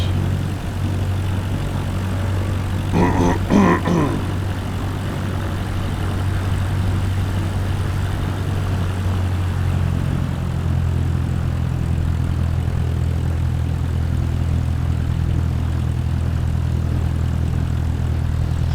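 Bush plane engine and propeller droning steadily during takeoff in Botswana, a loud, continuous low hum that rises slightly in pitch partway through, heard from inside the cabin.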